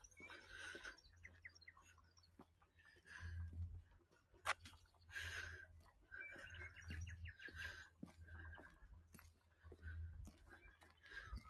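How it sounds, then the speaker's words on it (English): A willy wagtail chirps and calls in short, repeated bursts outdoors at a wetland near old industrial ruins, faint and mixed with low murmuring voices and background rumble. "That bird you can hear at the moment is the willy wagtail."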